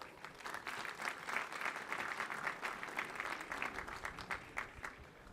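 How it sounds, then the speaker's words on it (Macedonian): Sustained audience applause fills a university academic ceremony hall, dense steady clapping from a large crowd running throughout at even strength, with no voices over it. "Да им дадеме уште еден аплауз."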